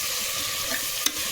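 Onions frying with green chilies and curry leaves sizzle steadily in a pan while a spoon stirs them, with one sharp scrape of utensil against metal near the end.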